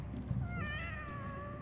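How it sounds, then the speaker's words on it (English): Cats meowing in a video game, several drawn-out, wavering meows that overlap near the start and then trail off into a quieter background. "there's your cats."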